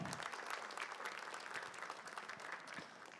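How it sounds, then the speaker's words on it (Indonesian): Steady audience applause at a stand-up comedy show, an even, dense patter of many hands clapping throughout at moderate level, with no voices over it. "Tepuk tangan dong."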